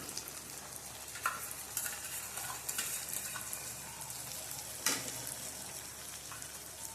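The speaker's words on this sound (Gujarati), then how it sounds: "હવે આ તેલની અંદર આપણે ચટણી પલાળેલો મસાલો નાખી દઈશું।" Soaked chutney masala fries in oil with softened tomatoes, giving a quiet, steady sizzle broken by a few soft stirring taps and brief crackling bursts.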